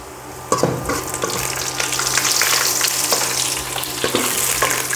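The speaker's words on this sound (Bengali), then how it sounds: "আমার পেঁয়াজ তো পুড়ে যাচ্ছে, তাপমাত্রা একটু কমাইতে হবে।" Onions frying in a pan, on the edge of burning over high heat, give a loud, steady sizzle with scraping stir strokes and clinks scattered through it. Nobody speaks.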